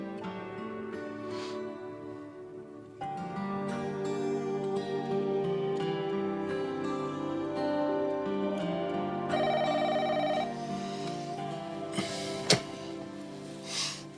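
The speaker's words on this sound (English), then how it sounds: "Sorry to make your phone ring so late." A telephone rings late at night, its steady repeating tone sustained and fairly loud over a bed of music, with no talking.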